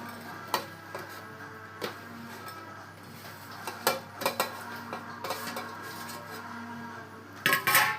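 Rava batter gets mixed with chopped onion, tomato, coriander and green chilies, with a spoon clinking and scraping against a bowl in irregular taps and a louder cluster of knocks near the end.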